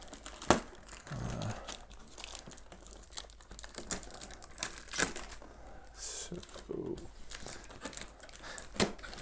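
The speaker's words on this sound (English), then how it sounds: "So gotta cut off some of this tape we have." Crinkling plastic and packaging are handled up close as tape is cut on the box of a 16-year-old Gemmy Airblown Halloween inflatable, with scattered rustles and sharp crackles at an irregular pace.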